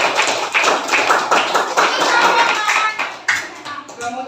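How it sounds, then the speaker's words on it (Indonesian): A classroom of elementary school children claps for a classmate in a brisk, rhythmic burst of close, loud handclaps that tapers off into a few scattered claps. "tepuk tangan untuk Alia"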